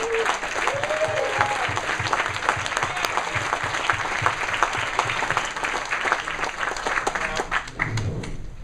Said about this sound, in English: I want to applaud all the founders in the room for their hard work and the judges for being on stage